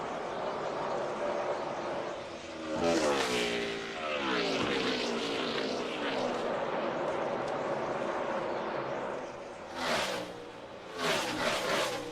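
NASCAR Cup Series race cars roar past on the final lap, a steady engine drone with rising and falling passes as cars sweep by, while a commentator speaks over it.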